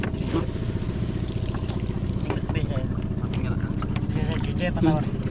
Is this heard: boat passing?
yes